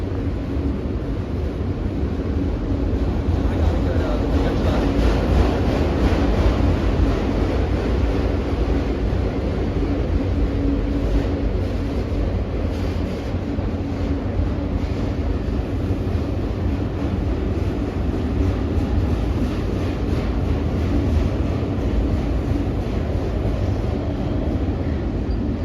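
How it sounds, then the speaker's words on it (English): A long CSX freight train rolls steadily past Takoma Metro station in Washington DC, a continuous loud rumble and wheel roar with rail clatter holding level throughout, no voices over it. "This train is long."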